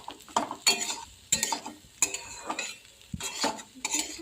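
A chickpea and potato fry is stirred in a frying pan: about eight irregular scraping strokes of a utensil against the pan over a faint sizzle, close by.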